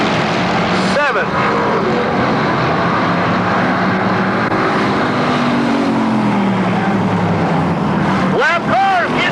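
Pure stock race cars circling a track, a loud, continuous roar of several engines that swells and fades as cars pass close by, with an announcer talking over the noise.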